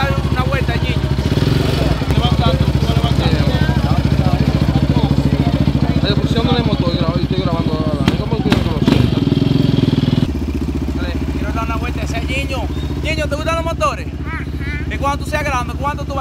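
Steady engine drone of a Yamaha Raptor 700 ATV ridden slowly at a walking pace, running continuously near the microphone with some clatter, and voices talking over it.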